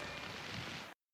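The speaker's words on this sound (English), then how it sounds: "Here comes the rain." Rain pours down on the Colorado River in the high desert of western Colorado, a dense, faint, steady hiss of falling drops that cuts off abruptly near the end.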